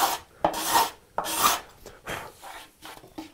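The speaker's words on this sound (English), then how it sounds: "now with the card scraper, I can smooth it out and get to a really nice," A card scraper rasps across a wood surface in repeated strokes, each a loud, close scraping sweep followed by a brief pause, about five passes in all.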